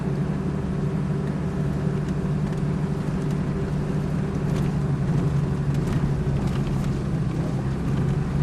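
A car rolling slowly along a bush road makes a steady, unbroken engine drone with a continuous low rumble from start to finish.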